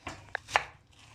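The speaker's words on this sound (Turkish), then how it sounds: "Bir tane soğanımızı doğruyoruz arkadaşlar. Ben küçük küçük doğrayacağım." A few quick knife chops through an onion on a cutting board, three crisp taps close by with short pauses between them.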